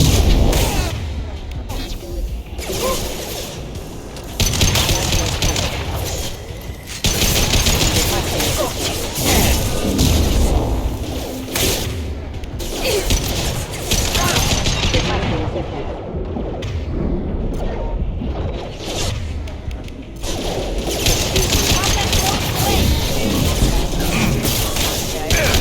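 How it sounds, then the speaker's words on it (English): Combat in the 2010 video game Mass Effect 2, where concussive and high-impact shots keep firing as loud booms and crashes pile up under constant battle noise and voiced dialogue. "Firing a high impact shot."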